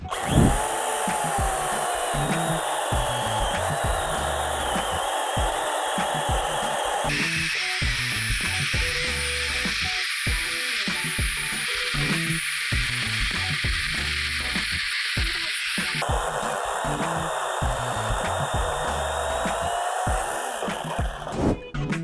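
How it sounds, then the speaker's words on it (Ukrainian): A cordless battery chainsaw buzzes steadily through firewood for about twenty seconds, its pitch shifting as the motor loads and eases, with no talking. "І ось так ця пилка показує себе в роботі"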